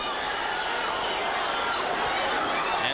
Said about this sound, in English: The pro-Griffin contingent in the crowd whoops it up as their man lands that hard counter right over the top